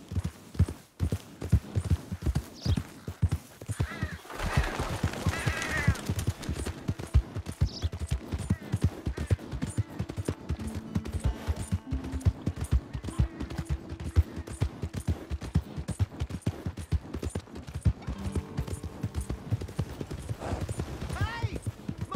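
Rapid horse hooves in Red Dead Redemption 2 clip-clop steadily for a long stretch, loud and close, with occasional voices and game noises mixed in.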